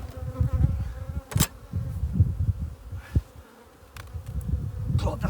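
Steady low buzzing from many honey bees at a hive during a heather honey harvest, continuous and fairly close, with a few brief sharp knocks and rustles breaking through.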